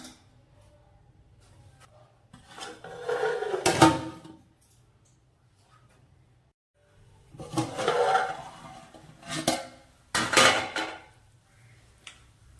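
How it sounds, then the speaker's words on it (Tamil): A metal plate is set over a pot of chicken dum biryani in a home kitchen, giving several loud clanks and scrapes in separate bursts with quiet gaps between them. "இப்ப ஒரு தட்டு போட்டு மூடிடலாம்."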